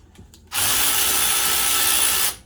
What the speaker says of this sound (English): Switch over to my speed ratchet. Help me get it out a little faster.